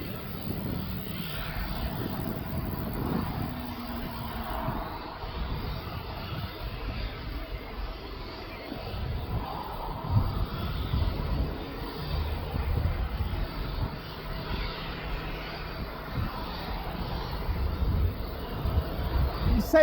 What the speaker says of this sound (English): Now the APU's just been put on the aircraft as you can hear it.